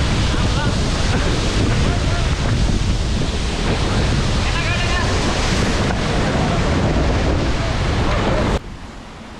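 Pomma Kida waterfall near Vaniyambadi pours over rocks with a loud, steady broadband roar and some wind buffeting on the microphone. The rush drops off sharply just before the end.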